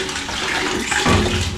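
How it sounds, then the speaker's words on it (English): Water poured straight into a container in one steady dump, a loud, continuous rushing splash that swells toward the end, close by. "we're gonna dump this water directly in it."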